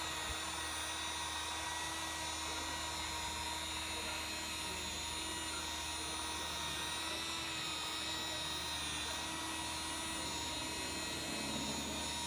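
A machine polisher buffing car paint with Menzerna 400 Heavy Cut compound, a steady whirring drone with constant tone that holds loud and unbroken throughout, no talking.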